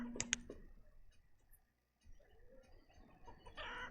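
Chickens cluck briefly in the village-building game Banished, a few sharp, close clucks at the start, then quiet farm ambience with faint ticks.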